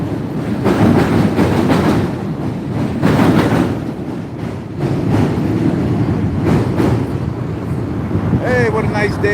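A train rumbles past with a steady low roar and rattling, close by, heard from a pontoon boat on the Chicago River's South Branch near Lake Street, with wind buffeting throughout and a voice speaking over it.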